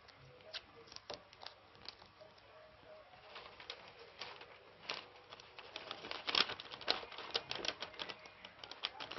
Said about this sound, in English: I'm going to be taking my paper tape to hold it down.